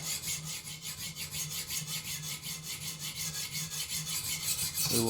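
A Buck 560 titanium knife blade being sharpened on a TSPROF guided sharpener, giving a steady rhythmic rasping of strokes, close and continuous, with no talking.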